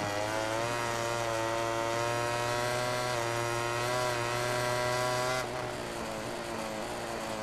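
A Ducati motorcycle engine in the MotoGP 18 racing game, a loud, high-revving steady whine with rising pitch that suddenly drops as the rider shifts gear, close and without talk.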